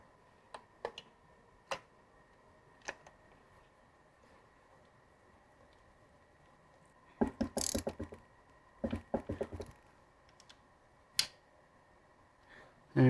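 A ratchet clicking as bolts are tightened down on a gearbox in a Rocket Bunny GT86 LS swap, with sparse single ticks and then quick bursts of rapid clicking, fairly quiet and close.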